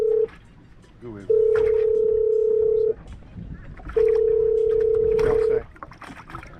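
A mobile phone rings from an unknown caller during a crappie fishing trip on a boat, giving two long, steady electronic tones separated by a pause, loud and close, while people talk in the background.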